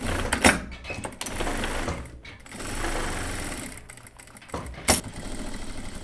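A sewing machine stitches a boiled-wool coat near the collar in uneven runs, starting and stopping between bursts, close and fairly loud, with no talk.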